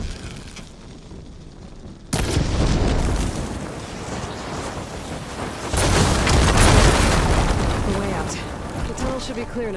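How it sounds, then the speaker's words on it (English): Blaze barrels in Horizon Forbidden West burst after being struck with fire ammo, giving two loud booming blasts, one near two seconds in and a larger, sustained one around six seconds, with crackling rumble and a voice talking throughout. "Hitting those blaze barrels with fire ammo should do the trick."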